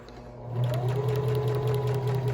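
A sewing machine stitches through fabric, a steady close mechanical whir with rapid needle ticking that starts after a brief quiet moment and runs continuously to the end.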